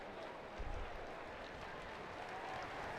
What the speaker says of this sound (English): he's getting a round of applause as he's being helped off the field